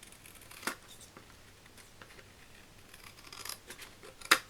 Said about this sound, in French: Prendre un ciseau parce qu'en fait c'est pas très droit.